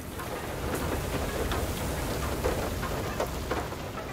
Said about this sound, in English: You would think this thing would be prepared for just a little bit of hail.